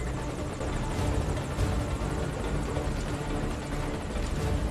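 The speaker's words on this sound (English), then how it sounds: "We should see the return of the helicopter soon." A helicopter in the stealth video game Metal Gear Solid V: Ground Zeroes drones steadily with a continuous rotor chop and engine roar, loud and close throughout, with no voices.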